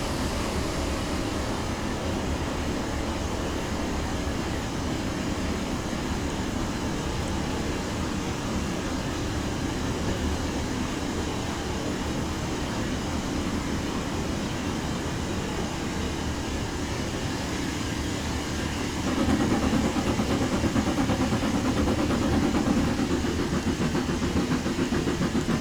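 A Precision Locomotive Developments LMS Black 5 steam locomotive rolls along with its throttle shut as it slows, giving a steady rumbling, clattering run that grows slightly louder near the end.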